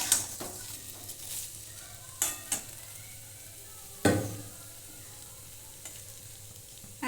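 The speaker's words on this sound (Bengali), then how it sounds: "আলুর সঙ্গে মশলাটা আমি ভালো করে কষে নিয়েছি।" Spice paste and potatoes fry in a pan while being stirred, a soft steady sizzle broken by several distinct spoon scrapes and clunks against the pan at irregular intervals, close and without voices.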